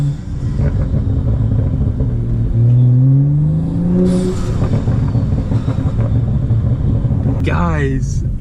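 A BMW F30 335i fitted with a BMS Elite performance intake accelerates in Sport Plus mode, a loud close engine rumble rising and falling in pitch through the gears from inside the car.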